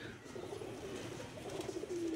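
Pigeons coo softly in a loft in a low, steady murmur, with a continuous rustling background and no talking.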